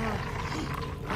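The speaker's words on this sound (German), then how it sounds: "Wie es zwei Löwen treiben, oder was?" Lions give a brief, low, rough roar from within a tent, a short growling burst heard at moderate distance with no talk over it.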